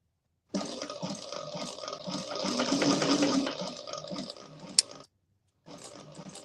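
A sewing machine sewing a seam runs in one long steady whir of about four seconds, followed by a sharp click, a pause and a brief restart.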